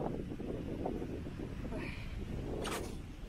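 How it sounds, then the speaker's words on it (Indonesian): Wind blowing outdoors during a boomerang-throwing session, a steady low rumbling buffet across the microphone that lasts the whole moment without easing. "Wah, ada angin pulak dah."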